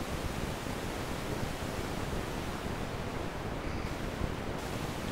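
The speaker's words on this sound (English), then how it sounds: "we've just got a pretty much solid massive noise going on here" Synthesizer noise patch with the decay turned up, a steady wash of broadband hiss that holds constant and fairly quiet throughout, alone with no talking.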